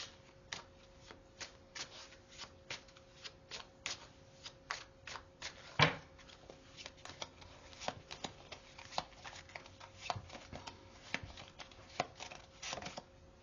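Hidden Truth Oracle cards being shuffled by hand, a quiet, continuous run of papery riffling and flicking ticks, close and steady, with no talk.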